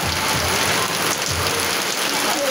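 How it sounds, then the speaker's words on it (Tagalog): Downpour drumming on the roof of a stranded, broken-down bus near Calbayog, a constant loud wash of rain with faint low rumbles beneath and no voices. "Ang lakas ng ulan."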